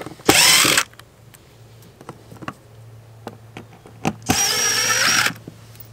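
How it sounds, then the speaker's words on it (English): A screwdriver backs screws out of a popup camper's outlet cover, with quiet clicks and taps between two louder, sustained bursts of ratcheting or driver noise near the start and again near the end. "we'll go ahead and take these screws out"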